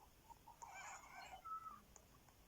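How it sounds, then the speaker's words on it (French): A bird call in the Paranormica video game inside a hospital room: a faint, distant chirping and cawing cluster of a few short notes over low background hiss. "c'est l'oiseau qu'on entend"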